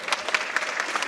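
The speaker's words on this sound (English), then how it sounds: "So Chris Dolan, stand up so you can get a round of applause," An audience at a film festival screening claps, a dense patter of many hands close to the microphone, continuous through the brief moment.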